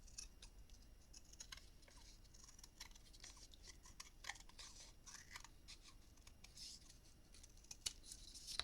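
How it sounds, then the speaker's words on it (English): Scissors trim a thin edge off boxboard while a memory book box is made by hand, a run of quiet, crisp snips and small clicks at an uneven pace, close by and without speech. "So we'll go with our scissors and trim that up."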